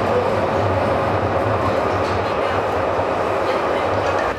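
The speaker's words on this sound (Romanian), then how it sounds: "am luat și tramvaiul până aici" Steady rumble of a tram ride heard from inside the car, with continuous low rolling and wheel noise running evenly throughout at a moderate, close level, without any distinct voices over it.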